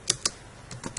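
Typing on a computer keyboard, four or five crisp, close keystrokes in a quick uneven rhythm, with nothing else heard.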